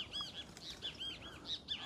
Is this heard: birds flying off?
yes